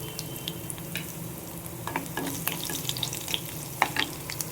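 Ginger sizzles and crackles as it fries in a pan of oil for mango chammanthi podi, a close, busy frying sound with scattered sharp pops and stirring scrapes.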